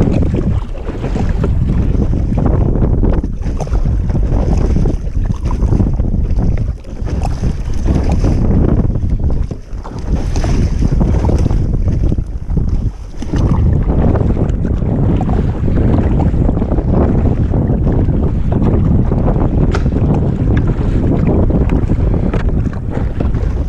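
Strong wind buffets the microphone on a sea kayak trip, a loud continuous roar mixed with water wash and splashing that barely lets up.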